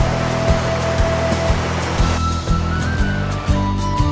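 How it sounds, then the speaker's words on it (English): Water drains out through a lifted gate at a Maine lobster pound, a steady broad rush with a low rumble and periodic surging pulses about every half second, fairly loud and with no talk. "Then we carefully lift the gate, holding back the water."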